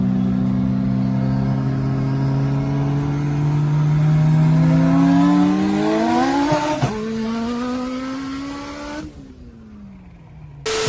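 A fast car accelerates hard with a loud engine note rising steadily through the gears, pitch sweeping upward with shifts before the sound cuts off abruptly near the end.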